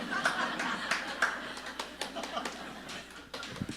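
A seminar audience claps briefly in a scattered, uneven way, with a few chuckles mixed in and a presenter's voice over it.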